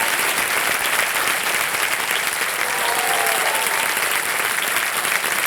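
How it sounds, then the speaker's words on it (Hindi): A studio audience on a television quiz show bursts into loud, sustained applause, a dense wall of clapping holding evenly from start to finish. "जोरदार तालियां बज जाए इनके लिए।"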